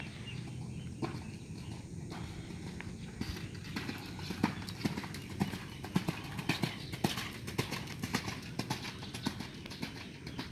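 Racehorse hooves clip-clop at a training track in Sumedang, a steady, fairly fast patter of hoofbeats over a constant outdoor background, growing busier toward the end.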